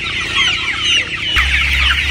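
Chickens about 45 days old cluck and chatter on a chicken farm, a busy overlapping flock close by with a low hum entering partway through.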